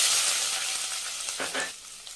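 Chopped onion tipped into hot oil already holding cumin and fenugreek for a spicy fish kulambu, giving a steady close sizzle with a brief louder crackling burst partway through.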